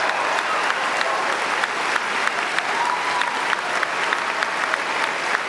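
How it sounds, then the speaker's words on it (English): An audience gives a round of applause, a steady wash of many hands clapping at even loudness throughout, with no voices standing out. "give yourself a round of applause"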